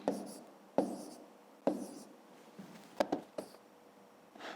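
A pen writing numbers by hand while working a fifth-grade math division exercise, heard as close, scratchy bursts of strokes with short pauses between them and a cluster of quick taps near the end, with no voice.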